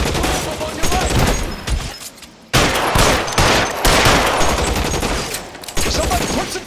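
Sustained gunfire from a shootout in the crime video game L.A. Noire, dense overlapping shots and bursts rolling almost continuously, loud and close, with a brief lull before the firing resumes.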